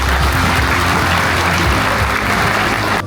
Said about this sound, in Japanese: 最後にもう一度素晴らしい試合を見せてくれた選手の皆さんへ拍手をお願いいたします。